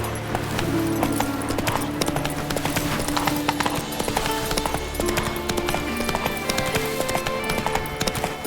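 Roach, a horse in The Witcher 3, gallops with steady, fast clip-clop hoofbeats that carry through the whole stretch, loud and close over a busy game soundscape.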